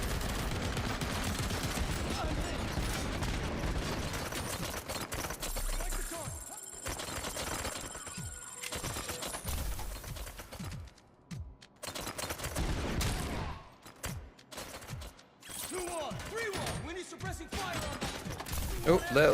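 A big gun firing in Robocop: Rogue City, with dense, loud bursts of gunfire and mechanical clatter that break off and resume, while a voice talks over it.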